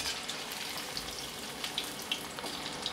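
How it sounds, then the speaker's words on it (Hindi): Chicken pieces frying in a kadhai, a steady soft crackling sizzle with tiny pops scattered throughout, fairly quiet and continuous with no voice over it. "अब इसे उलट पलट कर मैं फ्राई कर लेती हूँ"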